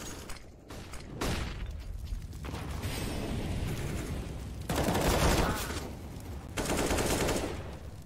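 Counter-Strike gunfire from a competitive MIBR versus ATK esports match: rapid automatic bursts and fusillades crackle in dense waves, loud and close, with swelling volleys near the end and no voices.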